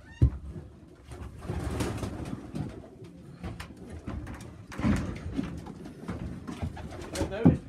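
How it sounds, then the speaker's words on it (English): Two pigeons coo softly inside a hut, low murmuring calls under rustling and shuffling, with a few sharper knocks and thumps nearby; a voice is faintly present. "I've only got two pigeons in that hut."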